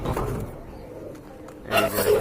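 Soft low cooing of a pair of Chila pigeons close by, with a burst of rustling and handling noise near the end.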